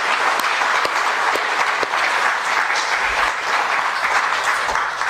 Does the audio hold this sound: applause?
yes